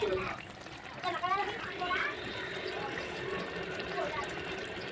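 Bottle gourd curry with fried shrimp boiling in a pot, giving a steady wet bubbling and simmering sound for the whole stretch, with faint background voices.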